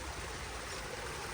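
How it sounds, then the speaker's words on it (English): A small stream in a public park flows with a steady, broad rushing wash of water, fairly close and constant, without voices. "this looks like a lovely little unassuming stream here in this park"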